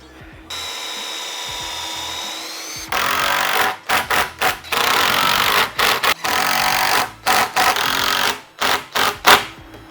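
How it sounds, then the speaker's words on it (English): A power driver sinks screws into a plywood box on a window build, a loud steady whine at first, then a series of short bursts of driving separated by brief pauses, close up with no talking. "Just locating the plywood box, so we drive the screws right in there."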